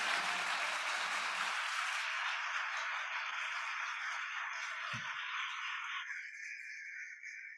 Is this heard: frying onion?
no